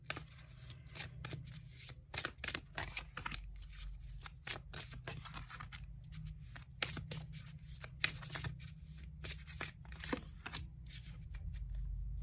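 A deck of cards is shuffled repeatedly, close and quiet, with crisp riffling bursts and flicks coming in an irregular rhythm over a low steady hum.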